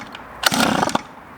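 A cheap $50 motorbike engine on half choke sputters briefly, a short rough burst of revving under a second before dying back to quiet.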